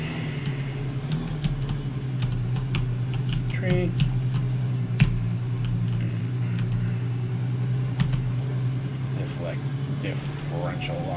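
A truck engine idles in the Gold Rush video game as a steady low drone throughout, with small clicks and a brief spoken word over it.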